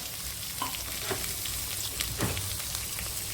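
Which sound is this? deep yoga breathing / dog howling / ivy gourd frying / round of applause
ivy gourd frying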